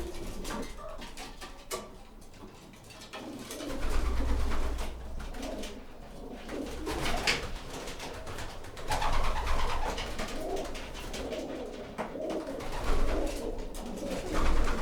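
Soft, low homing pigeon coos repeat steadily over a murky background hum, fairly close and unhurried, with no voices present.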